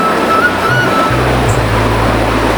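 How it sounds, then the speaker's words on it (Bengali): Heavy rain pours down in a dense, steady roar, loud and close, with a low rumble underneath. "ভালো রকম বৃষ্টি নামতেছে"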